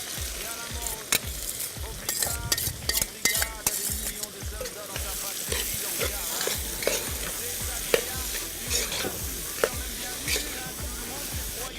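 Onion frying in a pan while being stirred, with repeated close scraping and clacking strokes over a continuous hiss of sizzling.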